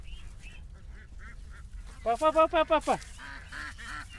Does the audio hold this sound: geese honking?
yes